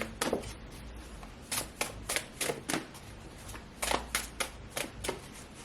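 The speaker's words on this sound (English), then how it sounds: "Sorry, I'm still in the middle of shuffling." Tarot cards are shuffled by hand close up, giving a series of crisp riffling bursts at an uneven rhythm with short gaps between them, alone with no talking.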